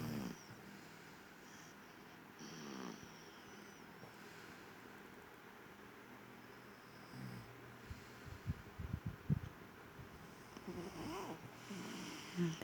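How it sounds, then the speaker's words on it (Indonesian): An adult man snores while asleep in bed, with a steady breathy background and a cluster of rough, rattling snorts toward the end. "Itu suara papa ngorok."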